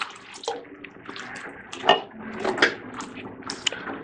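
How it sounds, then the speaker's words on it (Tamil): Water pours and splashes steadily into a pot of cooked lentils for bottle gourd kootu for several seconds, with small clinks and drips, close by and no talking. "கொஞ்சமாக தண்ணி சேர்த்துக்கலாம்."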